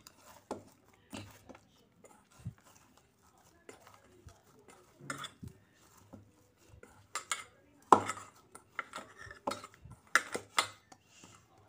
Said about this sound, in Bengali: এবার কড়াই নামিয়ে নেব গ্যাস থেকে